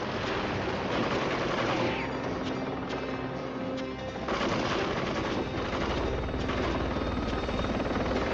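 A helicopter from the 1983 film Blue Thunder flies loudly and steadily, its dense rotor and engine roar mixed with bursts of rapid gunfire throughout.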